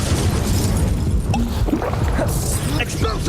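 Incendio fire spell from Hogwarts Legacy bursting with a whooshing, crackling flare over a dense bed of game noise, with spell-casting bangs and pops around it, close and loud.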